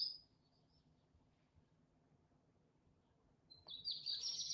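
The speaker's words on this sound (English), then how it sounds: "Y'all hear the birds chirping? It's a great morning." A faint early-morning bird call opens the clip, then low background hum continues until a brighter cluster of chirps rises near the end, soft and somewhat distant.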